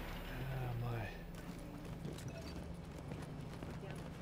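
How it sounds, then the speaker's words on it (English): Horse hooves clip-clop at a steady pace in a video game set underground, running continuously under game noise with a voice talking over it. "We gotta get on our horse."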